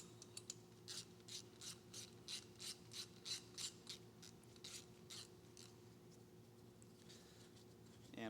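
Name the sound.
ratchet wrench removing 12mm bolt from Honda F32A engine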